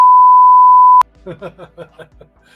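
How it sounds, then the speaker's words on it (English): A loud, steady electronic censor beep lasting about a second, followed by a person speaking. "We're gonna have to beep that."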